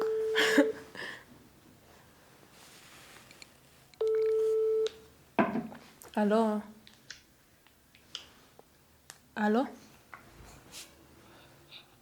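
Outgoing phone call where a repeating electronic ringback tone sounds in short bursts, with quiet pauses and brief voices between the tones.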